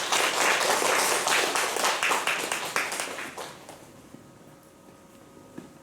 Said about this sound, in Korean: 다시 한번 박수로 격려해 주십시오